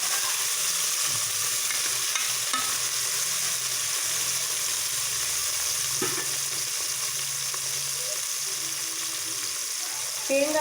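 Tomatoes sizzle and crackle steadily in a hot pan for jeera rasam, with occasional scraping and stirring sounds over the continuous frying hiss.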